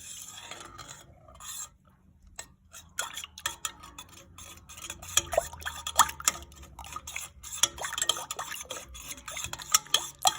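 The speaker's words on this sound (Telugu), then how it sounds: "ఇంత పెరుగేసి బాగా కలపాలి" A spoon stirs yogurt into lukewarm milk in a bowl, scraping and clinking against the sides in quick irregular strokes, close and clear, with no talking.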